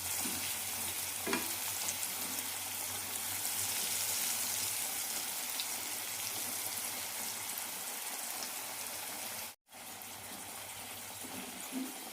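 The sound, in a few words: potato slices frying in oil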